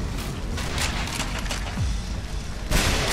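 Rifle fire in Sniper Elite Nazi Zombie Army 2, a few sharp shots standing out over a dense, rumbling game soundscape, one louder crack near the end.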